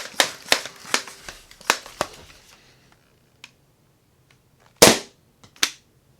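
A thrifted Nerf blaster fires in a quick string of sharp snapping pops that trail off, followed by a few scattered clicks and two louder, isolated shots near the end.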